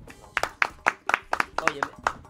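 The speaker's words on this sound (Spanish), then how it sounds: "vamos a dar un aplauso" Hands clap in a TV talk-show studio during a conversation about merengue music, about a dozen sharp, fairly close claps in an uneven rhythm, with a little talking among them.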